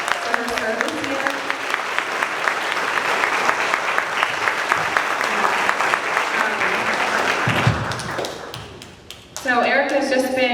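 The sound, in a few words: audience applauding a teacher at a ceremony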